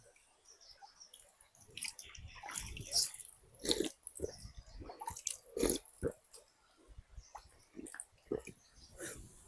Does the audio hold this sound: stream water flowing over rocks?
yes